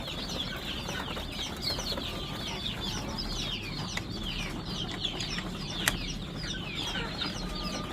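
Newly hatched, day-old chicks fresh from an incubator, white Leghorn, Dalmatian, Andijan black and Adler breeds, peep constantly in a dense, busy chorus of overlapping high chirps that never pauses.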